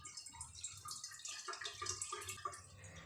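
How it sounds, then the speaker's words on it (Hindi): Cold room-temperature water is poured over boiled pasta draining in a colander, a quiet, uneven splashing and trickling with scattered drips. "छलनी में निकालने के बाद हमें इसके ऊपर थोड़ा सा ठंडा पानी डाल देना है।"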